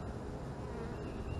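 A bee swarm in a front yard gives a steady, dense buzzing hum that holds evenly throughout, close and continuous.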